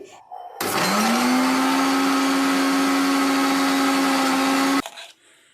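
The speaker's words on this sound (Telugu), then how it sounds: "ఇప్పుడు మళ్ళీ ఇంకొకసారి మిక్సీ పెట్టుకోవాలి" A mixer grinder grinds bhringraj leaves into a paste, starting with a whine that settles into a loud, steady motor drone for about four seconds before it switches off and spins down.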